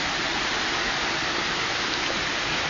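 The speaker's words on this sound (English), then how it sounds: "So yeah, there's the waterfall." Steady, dense roar of Wentworth Falls waterfall, a continuous broadband rush of falling water heard close, with no voices.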